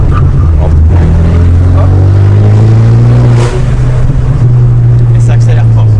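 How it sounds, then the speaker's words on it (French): A modified car accelerates hard, its engine droning loud and close with a rising, sustained roar and a brief dip as it shifts before pulling again. "Et ça accélère fort."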